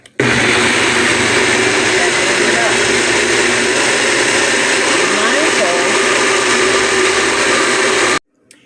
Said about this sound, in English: put the top on this and try and get this blended up and see what we got